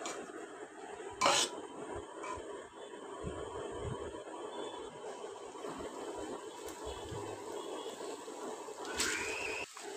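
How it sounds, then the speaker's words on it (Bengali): Macaroni pasta is stirred in a pan, with a spoon scraping and clinking against the metal in an irregular rhythm, plus a couple of sharper knocks, close and moderately quiet, with no talking. "একটু ভালো করে মিশিয়ে নিতে হবে।"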